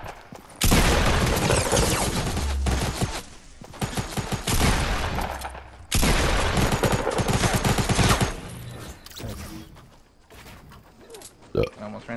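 Loud sustained bursts of automatic gunfire in the video game Fortnite, two long volleys separated by brief pauses, then sparser shots and clatter toward the end.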